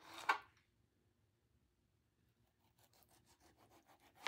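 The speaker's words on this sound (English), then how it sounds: "So I can get the other tomato cut." A kitchen knife saws through a tomato for a sandwich, one sharp cut at first, then after a quiet pause a run of soft rhythmic slicing strokes close by.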